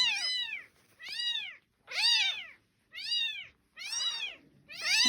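A newborn kitten meows repeatedly for more milk, six high, rising-and-falling cries in a steady rhythm with short gaps, close and fairly soft.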